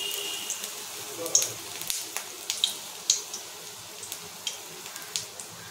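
Lentil fritters (bora) frying in hot oil at home, a soft steady crackle with scattered small pops running throughout, moderately quiet and with no talking.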